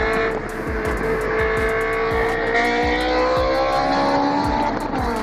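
A Honda S2000 sports car engine revs hard and roars while tires squeal and skid in traffic, loud and close, with repeated sharp bursts as it drifts.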